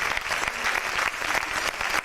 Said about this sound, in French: les applaudir très fort.